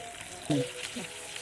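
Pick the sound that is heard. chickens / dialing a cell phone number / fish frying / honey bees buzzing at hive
fish frying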